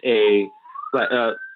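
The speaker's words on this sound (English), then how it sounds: "excuse if you can hear the sirens in the background." A faint siren wail rises and holds in the background, partly under voices talking.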